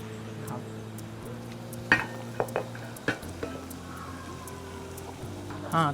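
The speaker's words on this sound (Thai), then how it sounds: "ต่อด้วยเนื้อครับผม เนื้อที่เราหั่นเท่าฟองไก่ครับ นี่แหละ นี่แหละ เราก็เทไปเลย" Beef pieces poured into a pot of simmering curry paste for Islamic-style Thai curry, a few soft clatters and wet plops over a steady low kitchen hum, with no talk.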